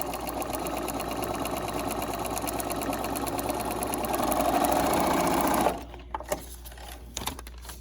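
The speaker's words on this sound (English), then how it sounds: "Now I'm going to sew this line, again starting outside of the dotted line." A sewing machine stitches a straight seam across a quilt block in a steady, close whir for about six seconds, then stops abruptly, leaving a few faint handling clicks.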